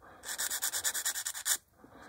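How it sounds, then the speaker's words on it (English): Plastic parts of an HK Models 1/48 B-25J scale kit being trimmed, a rapid series of about a dozen even, scraping strokes, close and clear, stopping abruptly into near silence. "I'm just gonna trim those right off."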